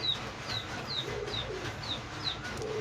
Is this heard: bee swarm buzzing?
no